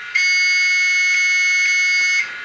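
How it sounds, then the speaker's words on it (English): A steady, shrill electronic in-cabin alarm tone from a Fleischmann N gauge DCC sound locomotive sounds continuously for about two seconds, loud and unbroken, then cuts off. "And then we've got an in-cabin alarm."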